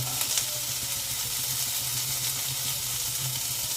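Chopped beans, capsicum, cabbage and carrot fry in a pan with a steady, close sizzle and hiss that continues without a break.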